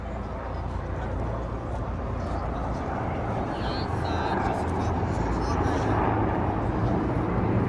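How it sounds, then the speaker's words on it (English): A landing helicopter drones close by on the Queens Quay West waterfront in Toronto in a steady, heavy rumble with a broad whooshing roar that grows slightly louder, masking any nearby voices. "There's a helicopter landing."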